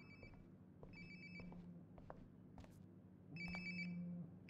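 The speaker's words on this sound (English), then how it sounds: "Sounds like my phone is definitely nearby." A phone in the Life is Strange: Before the Storm video game rings nearby in short, repeating electronic bursts. It sounds quiet and slightly muffled against low room tone.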